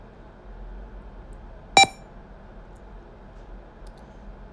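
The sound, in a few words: computer beep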